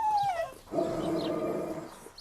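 A dog in a TV cleaning show gives a rising whine, then a stretch of strained, howling vocalizing, close and fairly loud, with a short pause between the two sounds.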